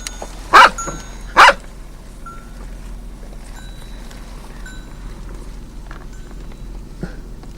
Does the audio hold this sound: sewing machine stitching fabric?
no